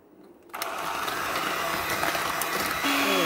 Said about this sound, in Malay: Mentega ni dah kembang sedikit, kita masukkan telur sebiji-sebiji dan kita kisar